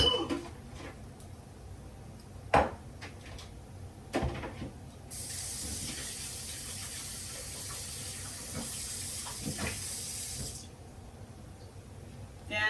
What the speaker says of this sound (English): Let me rinse my spoon.